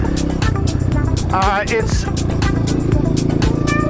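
A 2003 Honda CRF230F dirt bike engine runs loudly and steadily at close range, its throttle rising and falling as a rider talks over it.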